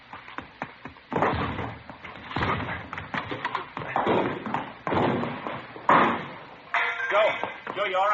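Police officers force a door open with several heavy, booming thuds and knocks spaced over a few seconds, mixed with tense voices.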